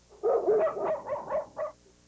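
Several dogs at a house bark in a quick run of six yapping barks, fairly close and alone.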